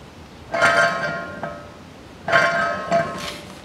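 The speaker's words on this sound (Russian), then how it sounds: "Это вот такой вот шум издает ступица." Grinding, rattling noise from a worn front wheel hub bearing on a 2007 Mazda 6 with a collapsed cage, heard in two separate bursts of about a second and a half each, fairly close.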